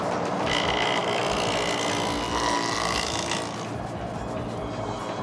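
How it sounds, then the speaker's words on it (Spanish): A steam-engine-driven wood planer runs steadily, its loud continuous mechanical whir and rasp filling the scene with a slight drop in intensity toward the end. "Podemos cepillar la madera."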